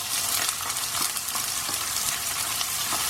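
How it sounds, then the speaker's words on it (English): Onions sautéing in a pan for sweet and sour pumpkin sabzi, a steady close sizzle with faint scraping stir sounds, no voices. "we're going to saute these onions till they turn just a light golden color"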